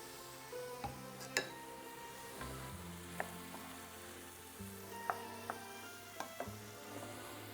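Food sizzling and frying in a pan with shallots, a steady close hiss broken by a few light clinks of a utensil against the pan.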